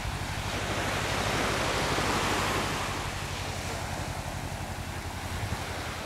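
Waves wash onto a Maldives island shore in a continuous loud rush of surf, with wind buffeting the microphone throughout and no voices.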